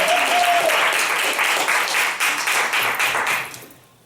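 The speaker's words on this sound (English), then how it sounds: "Let's clap your hands for the people of God." Audience members at a church panel session clap their hands in loud, close, dense applause with a faint pulsing rhythm, fading out over the final half second.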